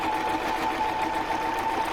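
Sewing machine stitching ribbon onto a junk journal cover, a steady close whirring hum with a fast, even mechanical rhythm running unbroken throughout.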